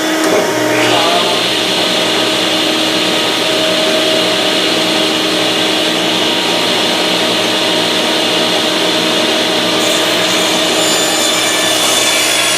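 A power saw cutting wood for black iron pipe shelves, with a shop vacuum running, gives one loud continuous whining cut that holds steady throughout, close up and alone.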